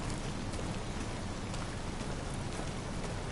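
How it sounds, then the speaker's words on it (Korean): Rain in the video game Detroit: Become Human, a steady, even hiss of falling rain pattering on surfaces, soft and continuous, with no voices. "비가 오고 축축한데 빨리 들어가서 멍멍이를 보고 싶은데."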